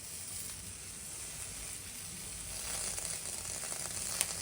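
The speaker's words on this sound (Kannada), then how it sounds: "ಈ ಥರ ಫ್ರೈ ಮಾಡ್ಕೋಬೇಕು" Chutney ingredients frying in a pan give a soft, even sizzle throughout, faint and continuous, with a brief sharper crackle near the end and no talking.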